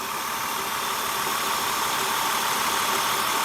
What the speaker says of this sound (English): It's not really rattling like this one would. I don't know if you guys can hear that